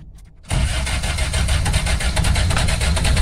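Car engine cranking over and catching after a brief quiet moment, then settling into a steady, close idle that runs on alone.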